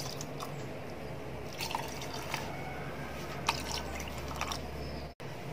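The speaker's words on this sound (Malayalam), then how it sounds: "അതിന് ശേഷം നമുക്ക് കുറച്ച് പാൽ അതിലോട്ട് ഒഴിക്കാം." Milk is poured into a falooda glass with a soft, quiet liquid trickle and a few faint drips. A low background hum sits underneath.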